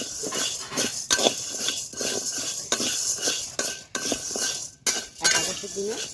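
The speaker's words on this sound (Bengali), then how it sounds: "এই সাবুটা এবারে কড়ার মধ্যে ঢেলে দেবো" Sago is fried and stirred in a hot wok, a steady rattling scrape of a utensil against metal with repeated clinks through the whole stretch and no talking over it.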